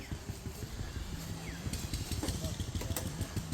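A restored historic Crosley engine runs at a machinery restoration rally, chugging with a fast, uneven putter at moderate distance. Outdoor background noise surrounds it.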